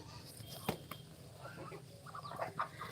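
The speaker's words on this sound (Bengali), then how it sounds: "আমার হচ্ছে চারটা মুরগি কেবল" Hens cluck softly in short, scattered bursts, close by, over a quiet background with a few light clicks.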